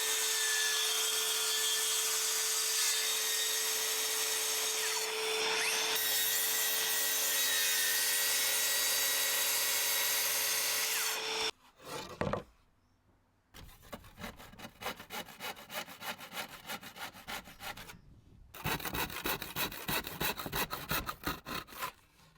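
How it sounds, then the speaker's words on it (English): A handsaw cuts through wood in steady back-and-forth strokes, close and clear, after a long stretch of constant mechanical hum. A brief pause breaks it, then the rasping strokes resume in two rhythmic bursts. "I think I'm going to have to come back with a handsaw and finish off the cut."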